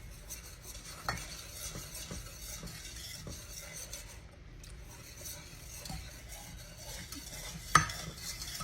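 Stirring brown sugar, butter and evaporated milk into caramel in a pan: a steady soft scraping with faint sizzling, broken by a few light clinks of the utensil against the pan and one sharper knock near the end.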